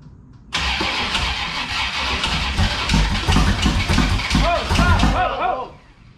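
A 1972 Richard Petty tribute race car engine cranks and fires, then runs rough and loud with an irregular cracking, ticking rhythm like a stuck lifter, with voices talking over it.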